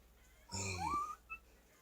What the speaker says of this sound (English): But little bitty dog. Chihuahua mini pin mix.